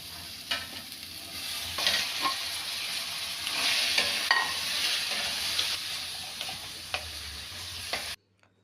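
Carrots, tomatoes and green peas frying in a pan, a steady close sizzle with occasional stirring scrapes and ticks throughout, then it cuts off abruptly.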